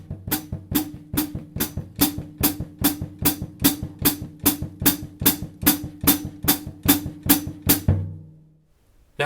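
A steady medium-up-tempo jazz drum pattern with evenly spaced cymbal strokes and a soft, low feathered bass drum pulse underneath, ending with a ringing decay.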